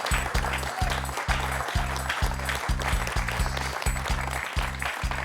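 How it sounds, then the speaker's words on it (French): Steady applause from a TV quiz show studio audience, continuous and fairly loud, with a rhythmic low thumping running underneath throughout. "1 point pour Domenico, qu'on peut applaudir"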